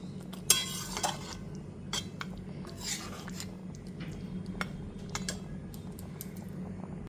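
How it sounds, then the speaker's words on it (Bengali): Water being mixed into chicken curry in a pan, heard as scattered light clinks and scrapes of a spoon against metal with a couple of sharper knocks early on, over a low steady background. "জলটা দিয়ে খুব ভালো মতো মিশিয়ে নিলাম।"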